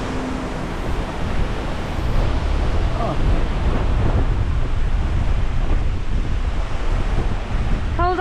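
Strong coastal wind buffets the microphone in a steady, loud roar with surf rumbling beneath, along the seafront at Benalmádena on the Costa del Sol, Spain, as it blows dust and sand about, and a few faint voices come through near the end.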